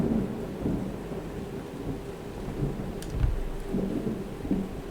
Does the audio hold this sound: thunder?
yes